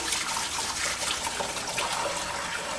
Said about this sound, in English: I like to put them in a pan and then use a brush to get all the dirt